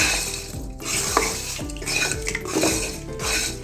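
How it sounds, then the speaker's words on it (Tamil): Masala kozhukattai being stirred in a pan after fresh coriander leaves are sprinkled in, with a spoon scraping and clinking against the metal in an uneven rhythm of close, clattering strokes. "தூவிட்டு நல்லா கிளறிக்கோங்க"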